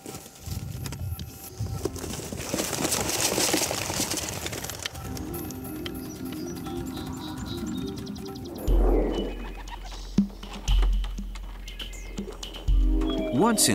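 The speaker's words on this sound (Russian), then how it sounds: "теперь выпускаем голубей" Pigeons released in an open field with no trees, wings fluttering and a brief burst of bird calls amid a narrating voice and soft background music.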